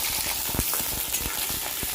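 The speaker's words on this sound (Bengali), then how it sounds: "এরপরে আমি দিয়ে দিলাম চিংড়ি পটল একসাথে আমি ভেজে নিলাম" Shrimp and pointed gourd fry in a pan for a Bengali mixed-vegetable dish, giving a dense, steady sizzle with small crackles and pops throughout, close and loud, with no voices.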